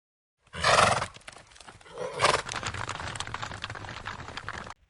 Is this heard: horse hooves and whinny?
yes